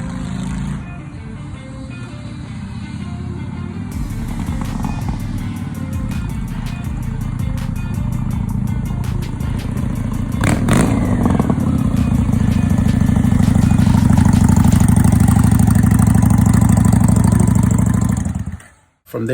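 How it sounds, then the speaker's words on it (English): A Honda Shadow 750 Spirit motorcycle engine runs close by, idling with a low steady rumble before revving up and holding a louder, fuller roar that cuts off abruptly near the end. "I was revving and taking off with a lot more confidence"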